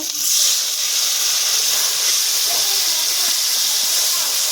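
Water is poured into a hot pan of duck curry with Kashmiri red chili, garam masala and green chili paste, setting off a loud, steady steam hiss that holds evenly for several seconds, close up with no talk.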